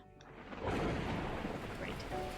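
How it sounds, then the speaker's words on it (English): Torrential rain pours down in the video game Beacon Pines, a dense loud roar of downpour joined by a swelling rumble of thunder that builds and then holds. "the heavens opened up, unleashing torrential rain"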